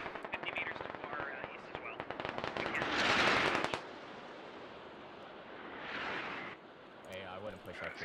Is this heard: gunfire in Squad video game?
yes